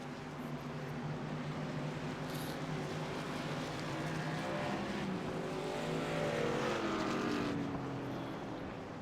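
Racing trucks in the iRacing video game produce a continuous wash of engine roar and road noise, steady and moderately loud throughout, with a slight swell as the trucks pass, and no talking.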